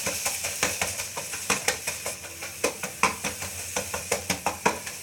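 Onions and salt stirred in a pot for palak chicken curry, a brisk run of regular metallic scrapes and clacks from a spoon against the pot, close and fairly loud over a faint sizzle.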